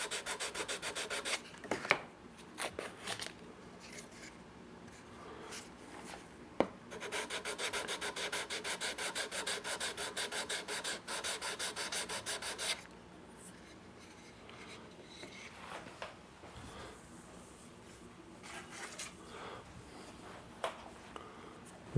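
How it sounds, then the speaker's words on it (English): Sandpaper rubbing across the wood end veneer at the neck of a hand-built archtop guitar, a steady close, continuous scratchy rasp in long strokes with a brief pause and quieter sanding near the end. "I'm going to just sand in the center a little bit."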